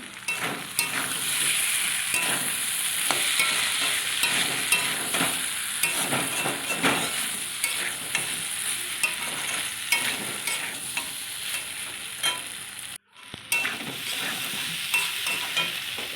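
Ginger and potatoes for a potato curry stirred in a hot pan, giving a continuous close sizzle with frequent scraping strokes of a spoon and a short break near the end.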